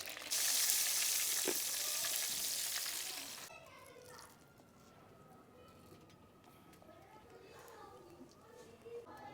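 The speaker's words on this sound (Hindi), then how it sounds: "जो बाकी है ना उनको भी मैं फ्राई करूँगी" Tomato and potato samosas deep frying in hot oil in a village kitchen, with a loud, dense sizzling hiss for about three seconds that then drops to a quieter, steady bubbling.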